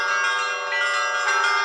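Church bells ringing at a church on Sviyazhsk island, Tatarstan, a loud sustained metallic peal with overlapping strikes and ringing overtones, no voices.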